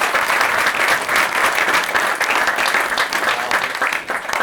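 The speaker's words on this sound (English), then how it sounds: "A round of applause for this lady here." An audience at a parlour magic show breaks into loud, sustained applause, with dense, even clapping that holds steady throughout.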